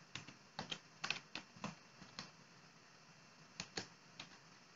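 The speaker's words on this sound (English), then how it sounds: "I'm going to hit Control C, Control V." Computer keyboard keys tapped in quick small clusters for copy and paste shortcuts, light close clicks in a few short bursts separated by quiet gaps, with no voices.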